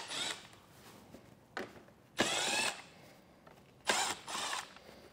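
A power tool fitted with a 7mm socket backs out bolts on a 2023 vehicle during a base plate installation, with several short whirring bursts separated by pauses, close by and without talk.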